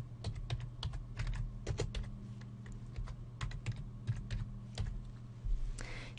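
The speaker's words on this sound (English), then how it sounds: "you might type this command in" Someone types a command on a computer keyboard, a dense stream of close, crisp key taps with irregular rhythm and brief pauses, alone with no speech.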